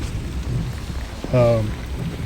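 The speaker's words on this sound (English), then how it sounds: "it looks like the rain has just set in pretty much for the rest of the day" A steady wash of rain falls on a November afternoon in Kansas, close and constant, broken once by a short tonal call.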